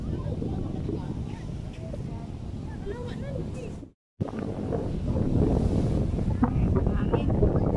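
Strong wind at a beach in Bangui, Ilocos Norte, with a storm nearby, buffeting the microphone in a steady low roar, with a brief dropout midway, then gusting resumes loudly.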